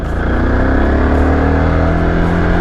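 A Yezdi Adventure motorcycle cruising in second gear, its steady engine drone loud and close with a constant low hum and wind noise throughout, no talking.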